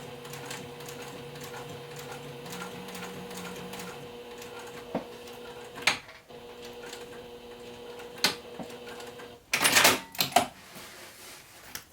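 A domestic sewing machine runs stitch rows along the long sides of a fabric notepad holder, a low steady motor hum with soft ticking, a few sharp knocks and a short loud rattle near the end.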